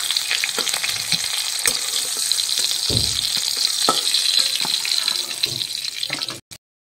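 Leftover fish sizzling and frying in hot oil in a home kitchen, a steady dense crackle throughout with a few clinks of a spatula or utensil, ending abruptly.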